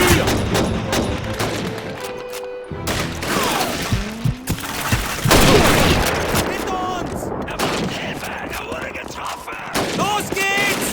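Call of Duty 2 Russian campaign combat, with rifle shots and the rapid chatter of an MG-42 machine gun tearing through a loud, close battle while soldiers shout over the gunfire.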